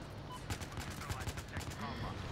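Rapid gunfire in a console shooter game, a quick series of sharp shotgun-like bangs amid dense game noise and chatter-level background, loud and busy throughout.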